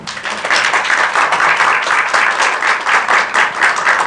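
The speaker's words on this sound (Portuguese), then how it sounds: "E podem aplaudir também." Audience applause at a talk, loud and sustained clapping from a crowd filling the room without a break for about four seconds, with no voices over it.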